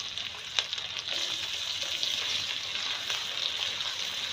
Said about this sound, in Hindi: तो हल्का सा फ्राई करेंगे ताकि ये दोनों चीज़ें सॉफ्ट हो जाए।